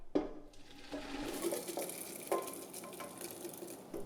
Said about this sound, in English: I'm just going to add the stock to the rooted vegetables, and I'll just pour those right in,